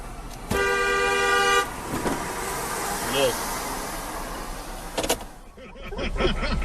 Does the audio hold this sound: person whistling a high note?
no